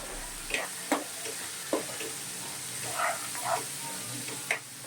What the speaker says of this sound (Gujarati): હવે મસાલા અને ટામેટાં સાથે સારી રીતે મિક્સ કરી લઈશું